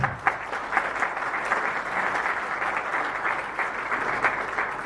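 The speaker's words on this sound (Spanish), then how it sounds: "brindar un voto de aplauso para el licenciado por el tiempo que nos brinda" Audience applause at a formal lecture on the national constitution, with steady, dense clapping from a seated crowd that holds evenly for several seconds with no voices over it.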